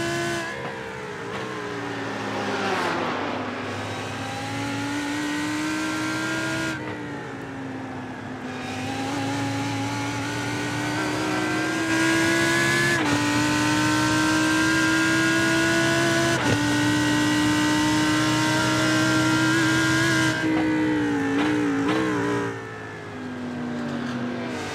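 A Lamborghini race car engine roars through a sim racing endurance race on the digital Nürburgring, its note rising and falling steadily with audible gear shifts and lifts every few seconds, loud and continuous with no voices.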